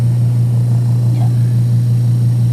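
A standard washing machine that won't spin keeps its motor running in a steady, loud, unbroken drone with no talking over it.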